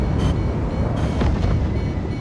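Deep roaring blasts with a sharper burst near the middle as two S4 aircraft explode during an F-45A air battle in the video game Delta Force, loud and continuous over a rumbling engine bed.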